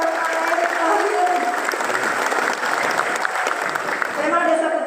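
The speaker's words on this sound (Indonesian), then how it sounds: "Ayo tepuk tangan buat Bapak Erick Thohir" A village millennial forum audience in Majalengka applauds BUMN Minister Erick Thohir, steady loud clapping from a crowd, with voices faintly mixed in throughout.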